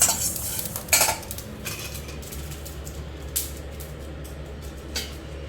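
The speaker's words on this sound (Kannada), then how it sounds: "ಅಷ್ಟರೊಳಗೆ ನಾವು ಏನು ಮೆಣಸಿನ ಹಣ್ಣು ಮತ್ತು ಹುಣಸೆ ಹಣ್ಣು ತೊಗೊಂಡಿದ್ವಲ್ಲ ಅದನ್ನು ಜಾರ್ಗೆ ಹಾಕ್ಕೊಳ್ಳೋಣ" Red chillies and tamarind go into a mixer-grinder jar for spicy tamarind chutney, heard as a few sparse clinks and clatters of metal against the jar over a quiet room, with no talking.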